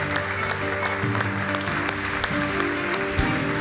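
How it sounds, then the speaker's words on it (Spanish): Steady rhythmic clapping from a church congregation carries over sustained worship music, the claps even and continuous throughout. "no dejes de aplaudirlo, no dejes de aplaudirlo"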